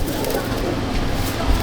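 Old-line Madrasi pigeons coo in a home loft, a brief, soft, low cooing against a noisy background.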